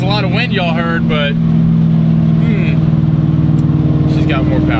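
A car engine revs hard at wide open throttle, a loud sustained drone whose pulses climb in pitch as it pulls. Excited talking and whooping from people inside ride over the engine.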